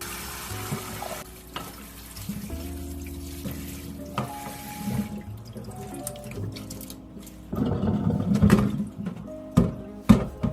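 Blanched fatsia shoots being washed in water, with gentle splashing, trickling and handling noises that grow busier and louder toward the end, close by and without speech.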